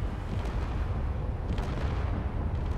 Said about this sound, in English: There's the explosion that's lagging up the joint.